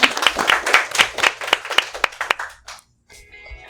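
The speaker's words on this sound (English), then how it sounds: "Now clap, guys" A live studio audience at a podcast recording claps in a burst of sharp, fairly close handclaps that fade out after a couple of seconds, leaving near silence with faint background tones.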